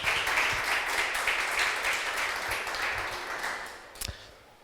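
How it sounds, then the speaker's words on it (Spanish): An audience at a museum talk applauds a speaker, a steady, fairly loud wash of clapping that gradually fades out, with no voices over it. "Así que por favor, darle un aplauso a David."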